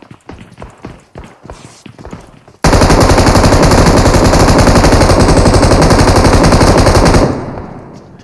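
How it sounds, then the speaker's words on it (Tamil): Dense automatic gunfire from the battle royale game BGMI erupts abruptly and loud, a continuous rapid burst lasting several seconds before cutting off, preceded by a few sharper scattered impacts. "இவ்வளவு புல்லட் அடிச்சிட்டு இருக்கான்"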